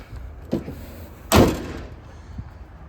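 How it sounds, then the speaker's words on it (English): The hood of an Oldsmobile Cutlass G-body car slams shut with a single loud, heavy thud, preceded by a lighter clunk and followed by a faint knock. "Hood is slammed. Nicely shut."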